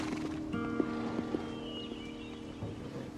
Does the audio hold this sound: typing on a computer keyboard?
no